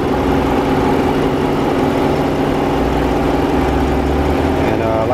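A 5.7 liter Hemi V8 idles under the hood of a Dodge Durango R/T, a steady, fairly quiet low rumble heard close up with no other sounds over it.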